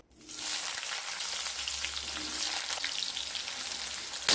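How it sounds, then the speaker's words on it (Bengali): Two large cut potatoes frying in oil make a loud, close, continuous hissing sizzle that swells quickly at the start and holds steady throughout. "এবার কেটে রাখা আলু ভেজে নেব।"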